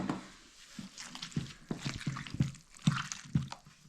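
Peeled peppers being squeezed by hand into paste, a run of soft wet squishing and dripping sounds in short bursts, close and fairly quiet.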